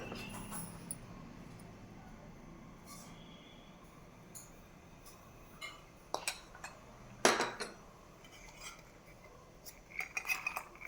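A spoon adds a tablespoon of chia seeds into a bowl for oats curd rice, with soft scattered taps and a few clear metallic clinks against the dish over quiet room hiss.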